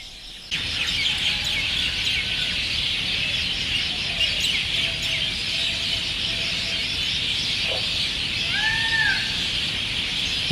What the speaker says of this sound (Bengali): ময়ূরের ডাক শুনতে পেলাম,